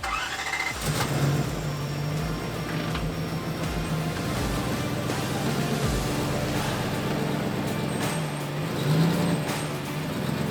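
A V8-swapped car on a standalone ECU cranks and fires up, then runs with a rough, throbbing engine note, brief revs and a faint squeal, close by.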